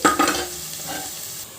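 Spices for tempering hit hot oil in a pan for an egg curry: a sharp burst of crackling and clatter at the start settles into a softer, fading sizzle, close by and brief.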